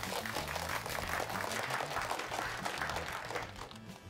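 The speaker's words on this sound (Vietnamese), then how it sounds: "Vỗ tay." A crowd claps warmly at a welcome-back gathering in a Chinese drama, a dense, continuous round of applause over low music that fades near the end.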